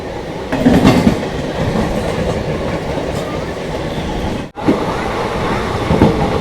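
Passenger train from Kolkata bound for Nagaland rolling into Bandel station: a steady, close rumble and rattle of the carriages with a brief dropout partway through, then the clatter resumes.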